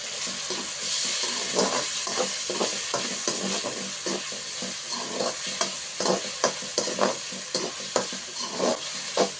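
Chopped medium tomatoes tumble into a pan of frying crab masala, setting off a steady sizzle with repeated scraping stir strokes in an even rhythm, close and fairly loud, no talking.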